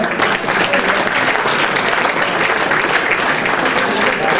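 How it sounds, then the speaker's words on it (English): Loud, sustained applause from an audience at an Eid community event, a thick, even wash of many people clapping close by without a break. "Please, round of applause for Baza."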